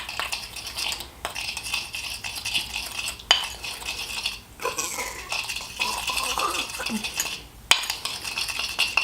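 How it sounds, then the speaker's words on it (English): A spoon stirs healing clay with two spoonfuls of raw apple cider vinegar in a bowl, giving steady close scraping and clinking that continues throughout, broken by a few sharper knocks against the side. "I'm going to do 2 spoonfuls of raw apple cider vinegar. And I'm just going to mix this up."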